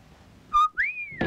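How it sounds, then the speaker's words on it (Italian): A person whistles in an Italian comedy scene: a short steady tone, then a quick rising whistle that glides slowly down, loud and close, with a brief noise at the end. "Ma chi ti ha dato il permesso da fischiare?"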